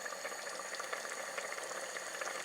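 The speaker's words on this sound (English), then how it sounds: "Let it boil." Barima Nkwan, a man soup, boiling in a pot makes a steady bubbling with a close, continuous crackle throughout, with no talking.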